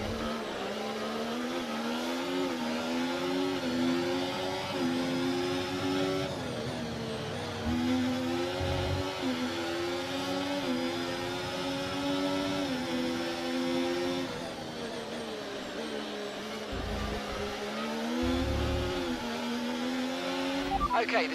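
Race car engines in a Canada round of a racing video game drone steadily, their pitch rising and falling as gears shift, loud and sustained, with a voice speaking over them.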